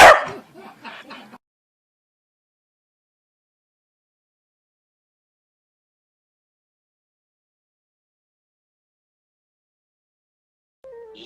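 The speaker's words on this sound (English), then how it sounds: "Nothing left to do but cue the corgi." A corgi lets out a quick burst of several sharp barks right at the start, then silence follows, broken only by a faint brief sound at the very end.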